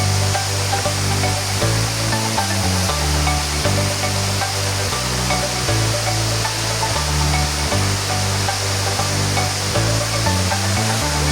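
Waterfall and stream at Mananta Falls rush in a steady, dense roar that stays loud and unbroken throughout, with no voices over it.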